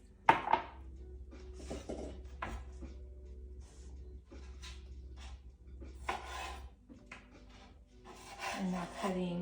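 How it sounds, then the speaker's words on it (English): A kitchen knife thinly slices green onion on a wooden cutting board for a simple sesame-oil salad. It gives a close series of soft, quiet rasping cuts with a few light knocks, and there is no talk. "And now cutting the green onion. And I'm just gonna like slice it pretty thin."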